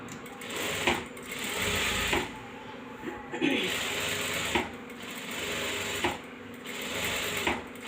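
A sewing machine stitches an embroidered blouse in repeated whirring bursts separated by brief pauses, heard up close, with a voice speaking faintly in the background.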